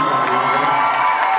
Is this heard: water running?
no